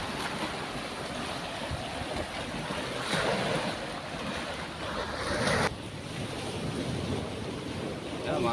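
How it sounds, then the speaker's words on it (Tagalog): Strong sea waves wash and crash near a fishing boat loaded with nets in an afternoon wind, a continuous rough surge with louder breaking swells and heavy wind buffeting the microphone. "Malakas pa rin ang alon."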